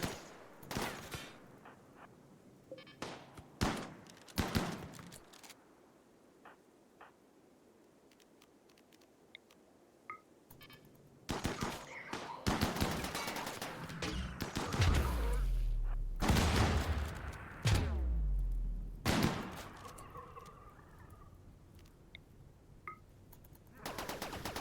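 Rimworld gunfire crackles in scattered single shots, then swells into heavy, overlapping bursts of rapid fire and thuds midway before thinning out again, with occasional faint talk.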